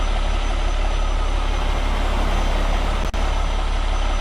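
A truck engine in American Truck Simulator, fitted with a modded engine sound, idles with a loud, steady, close rumble that cuts out for a split second near the end.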